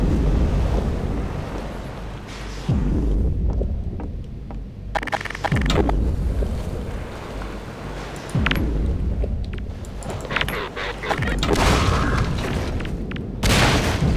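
A grenade blasts in Half-Life 2, a deep booming explosion followed by rumbling, roaring game noise with further bursts and crashes, loud and continuous with no talk.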